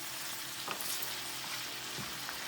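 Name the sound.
stirring fried rice with meat in pan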